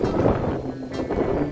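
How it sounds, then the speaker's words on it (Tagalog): Strong wind at a Pacific-facing viewing deck buffets the microphone in a steady, roaring rumble with gusty swells, loud and continuous throughout, no voices. "Napakalakas ng hangin dito"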